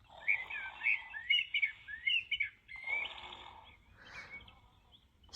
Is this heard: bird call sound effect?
yes